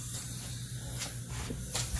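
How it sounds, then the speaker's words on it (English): An air blower hisses steadily while clearing gunk from a Toro Grandstand 36-inch mower, a continuous close rushing sound with slight surges. "I'm gonna get my air blower"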